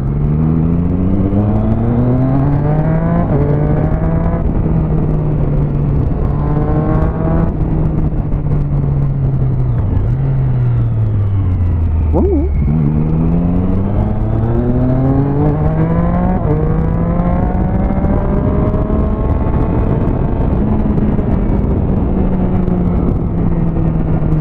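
A car engine revs hard while driving, the pitch climbing and falling through gear changes and one sharp dip midway, loud and close with a steady roar and no talking.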